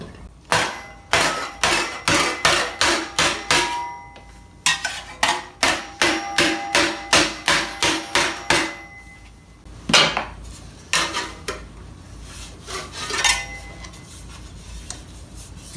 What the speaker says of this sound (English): I don't want to use a hammer that's going to give me scars on the metal. So I'm just using this rubber mallet.